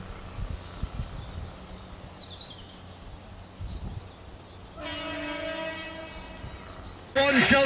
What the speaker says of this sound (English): And there's a train on its way across the Cheshire countryside.